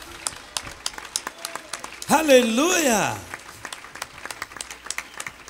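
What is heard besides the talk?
audience applause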